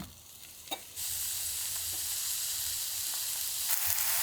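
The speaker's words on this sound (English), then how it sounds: "Let's fry some mushrooms." Wild mushrooms hit a hot pan in a mountain hut and burst into loud, steady sizzling frying, with a brief clink before the sizzle starts and light stirring scrapes within it.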